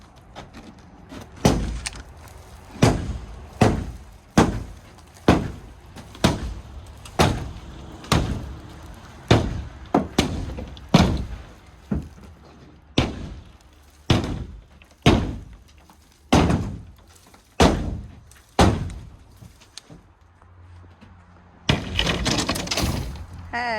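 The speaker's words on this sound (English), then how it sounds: "start hitting these panels out" Panels are knocked out of an old wooden shed in about twenty loud, sharp thuds and cracks that come at a steady rhythm, followed by a brief burst of rattling debris at the end.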